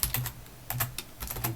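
Keys clatter on a computer keyboard as Java code is typed, a close, brisk run of taps in short bursts with brief pauses between them.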